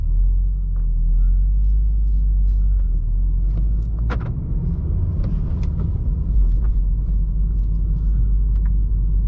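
A 2019 Volkswagen Golf R with a 6-speed manual driven in race mode, heard from inside as a steady low engine and road rumble with occasional faint clicks and knocks, no speech.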